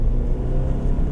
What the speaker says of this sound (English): we're gonna try first gear 3000 full